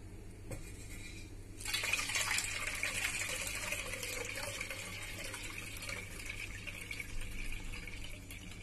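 Papaya water is poured through a strainer as part of a plant-feeding tip, a soft steady trickle and splash of liquid that starts abruptly and runs continuously, close and quiet.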